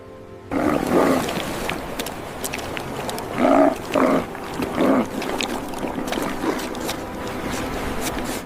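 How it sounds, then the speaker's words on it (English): An Antarctic fur seal colony on a rocky beach calls loudly, with several close, throaty roaring and barking bursts over a steady wash of surf and wind. "Antarctic fur seals transform rocky beaches into noisy, seasonal colonies."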